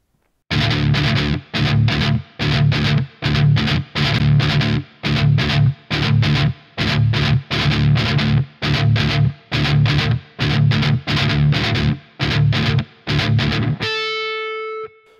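Distorted electric guitar chugging in repeated rhythmic bursts of strummed chords, loud and close, ending on a sustained ringing chord.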